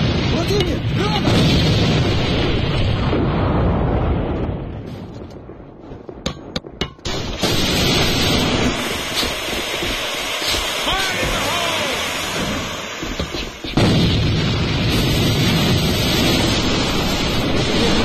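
A grenade blast in the online shooter AVA: loud, rumbling booms with heavy broadband noise, a brief lull, then more crashing combat noise, while voices call out over the fighting.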